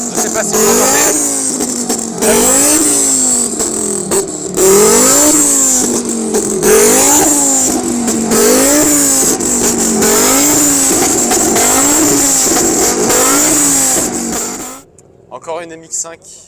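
A Mazda MX-5 at an outdoor car meet in Lille revs loudly and repeatedly, its engine note rising and falling in steady waves for about fifteen seconds before cutting off abruptly, with the crowd audible beneath.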